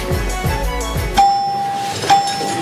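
A doorbell chimes twice, each clear ding ringing out and fading, following a low rumbling noise.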